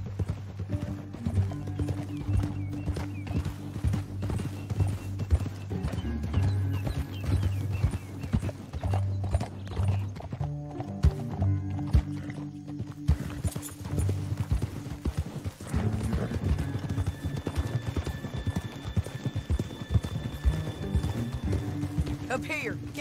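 Horse hooves gallop at a steady clip-clop in Red Dead Redemption 2, with occasional whinnies, over a low musical score and some game dialogue.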